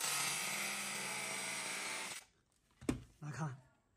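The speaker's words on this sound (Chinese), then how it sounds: "你看几下呢就把上面的铁锈给打磨掉了" An angle grinder fitted with a worn cutting disc grinds rust off a piece of iron, a loud continuous whine for about two seconds that cuts off, followed by a sharp knock and a brief burst of handling noise.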